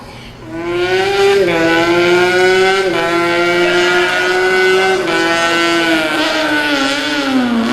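A human voice imitates a Formula 1 race car engine on stage, a loud sustained high-pitched whine with shifting pitch like gear changes, held for several seconds without words.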